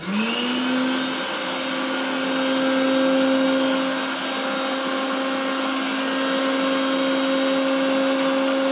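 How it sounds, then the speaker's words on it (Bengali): An electric grinder runs steadily, blending poppy seeds, salt, green chilli, turmeric and sugar into a paste for a steamed prawn dish. The motor gives a continuous high whine that stays loud and even throughout, with no voices. "হ্যাঁ, মশলাটা আমি পেস্ট করে নিচ্ছি।"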